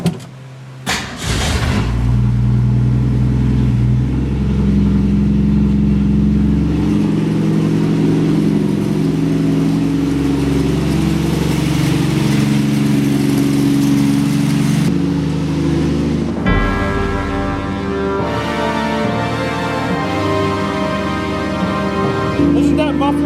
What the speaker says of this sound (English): let's see how this thing sounds when it starts up.